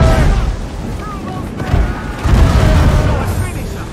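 Ship cannon fire in an Assassin's Creed Rogue naval battle, deep rumbling booms rolling under a busy mix of voices and crew shouting, with a heavier blast swelling near the end.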